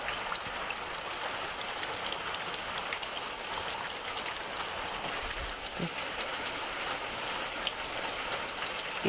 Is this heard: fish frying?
no